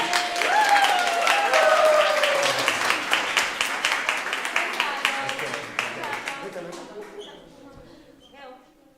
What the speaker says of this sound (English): And a great applause to Simone